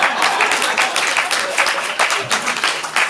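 A comedy club audience at a stand-up showcase breaks into applause, a burst of close, dense clapping with some crowd voices and cheers mixed in, holding steady throughout.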